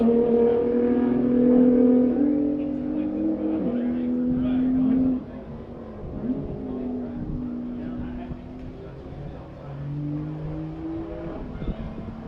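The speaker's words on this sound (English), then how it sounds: "So Mark and the GTR takes the green, so we've got the entire field on their first of 3 laps." A field of race cars, including a GTR, roars away on a track at the green flag, with several engine notes rising and sliding in pitch. The sound is loud at first, then eases to a steadier drone as commentary runs over it.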